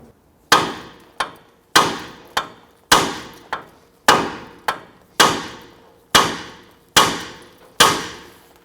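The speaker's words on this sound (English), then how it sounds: "I'm going to use a hammer. I'm going to strike the knuckle here." A hammer strikes the steering knuckle of a Nissan Frontier to free the outer tie rod end, about thirteen sharp metallic blows in a steady rhythm, each ringing briefly, loud and close with no talking.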